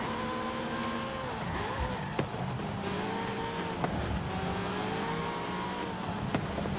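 A classic Ferrari racing engine in Forza Horizon 5 revs and climbs through gears in sustained tonal sweeps, close and loud, with brief sharp clicks between shifts and no talk.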